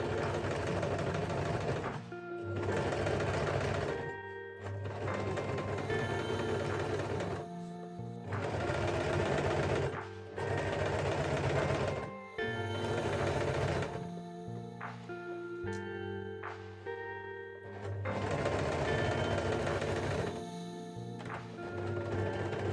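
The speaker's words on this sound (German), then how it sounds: "wir nähen jetzt einfach mal den Bund schön oder steppen ihn ab" Sewing machine stitching the waistband of summer shorts, sounding in several loud, steady runs of close whirring separated by brief pauses, with no talk.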